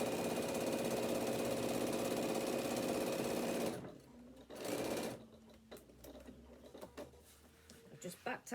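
A sewing machine stitches a section of a faux leather bag, a loud, fast, steady mechanical whir for several seconds, then stopping into quieter handling clicks and rustles.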